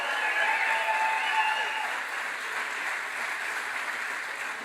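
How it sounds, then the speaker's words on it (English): A crowd at a political rally in Brewer gives steady, even applause for a gubernatorial candidate, a continuous wash of clapping heard from a distance. "Give a round of applause for Bobby Charles."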